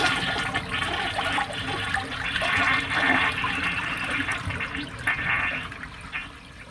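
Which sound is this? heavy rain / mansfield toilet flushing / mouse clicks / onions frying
mansfield toilet flushing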